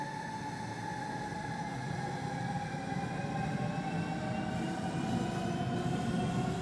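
BR474 electric train at full power in Train Simulator, with a steady rumble and rising whining motor tones that build gradually, with no talk.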